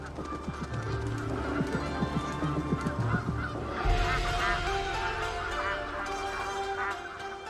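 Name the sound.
bar-headed geese honking in flight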